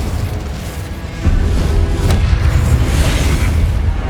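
A blasting-spell explosion in the wizarding video game Hogwarts Legacy, a deep rumbling boom that swells suddenly and holds as a steady heavy roar for a few seconds.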